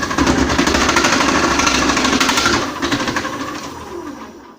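A KitchenAid 2.1-litre food processor motor runs while slicing a carrot, giving a loud, rough, rattling grind that eases off toward the end.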